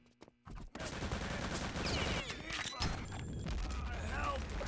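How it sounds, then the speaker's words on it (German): Gunfire in a 6-on-6 Return to Castle Wolfenstein match on the snowy mp_ice map: rapid, loud bursts of automatic fire and scattered shots run almost continuously, with a commentator's voice faintly underneath. "Schöner Schuss von JD"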